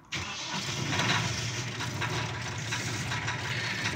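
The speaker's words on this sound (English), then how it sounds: "After 10 seconds, press the big black button to start the engine." A car engine fired up with a big black start button: a sharp crank catches almost at once, then settles into a steady, fairly loud idle rumble that carries on alone without talk.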